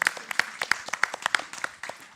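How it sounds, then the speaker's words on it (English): Audience applause at a conference, a crowd clapping in a steady patter of sharp claps for about two seconds, fairly close and loud, with no talking over it. "I don't know about you, but I want to clap"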